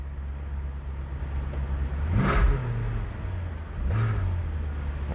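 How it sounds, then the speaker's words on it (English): Maserati Coupe with a Ferrari engine, sitting cold with the engine warning light on, idles with a low steady rumble and then takes two short throttle blips that rise and fall. "But it does have a Ferrari engine, which is nice. It sounds pretty decent."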